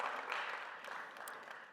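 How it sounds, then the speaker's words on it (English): Quiet audience applause at a university innovation day keynote, a steady broadband patter of many hands heard from a distance, fairly faint and continuous without talk. "A quick round of applause for them."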